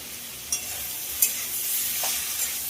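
Okra, potato and tomato frying in a pan give a soft, steady sizzle, with a few sharp scrapes and taps of a spatula as they are stirred, nearby and fairly quiet, with no voices.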